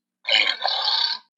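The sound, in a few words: walrus sound effect, belch-like grunt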